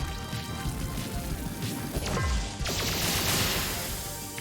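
Solar Rain attack effect in the video game Sea of Stars: a dense, hissing downpour of rapid crackling impacts with a brighter swelling burst midway, loud and continuous throughout.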